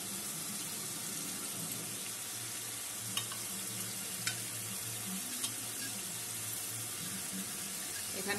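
Cashew paste frying in a pan for Nobabi katla, a soft continuous sizzle with occasional sharp taps of a spoon against the pan, fairly quiet and close.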